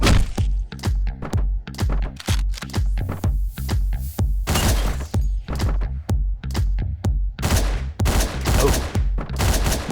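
Rapid gunfire in the top-down action game Hotline Miami, a dense run of sharp loud shots in quick bursts, with a few brief gaps and heavier blasts mixed in.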